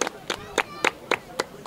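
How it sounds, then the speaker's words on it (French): At a youth football tournament ceremony in Cana, hands clap for the promoter in a slow, evenly spaced rhythm of about seven distinct claps, close and moderately loud, rather than a full crowd ovation. "Je voudrais vous demander d'applaudir le promoteur"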